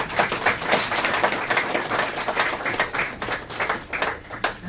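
A group claps together indoors at a Brahma Kumaris centre annual day celebration, making dense, steady applause that stays loud and close for several seconds, with no talking.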